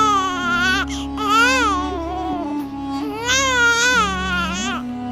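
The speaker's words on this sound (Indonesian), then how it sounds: "ia mendengar suara lirih, tangisan bayi." A baby wails in long, rising and falling sobbing cries, loud and close, with short breaths between them and a low steady drone underneath, set in an eerie graveyard ghost tale.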